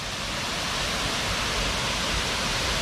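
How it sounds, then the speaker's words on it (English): The fourth tier of a waterfall beside a campsite in Kanchanaburi, Thailand, rushing as a steady, dense, broadband roar with no pauses or voices. "that's the fourth tier of the waterfall. Absolutely spectacular"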